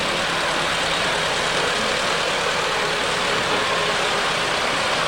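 Vintage tractors chug together at a threshermen show, making a continuous dense engine drone with steady knocking, loud and unbroken throughout, with no talking.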